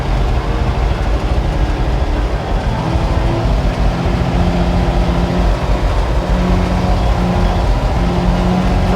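A 68-year-old REO dump truck creeps slowly down a steep driveway, its old engine giving a loud, continuous low rumble that holds steady throughout.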